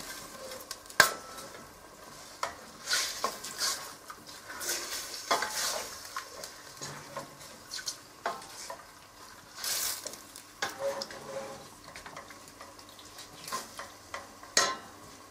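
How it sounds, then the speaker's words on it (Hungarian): Potatoes and meat fry in fat for Brassói aprópecsenye while a utensil stirs and scrapes the pan in irregular strokes over a soft, constant sizzle, close by and with no talking. "Zsírjára pirítjuk gyakorlatilag, mint a megsültnénk."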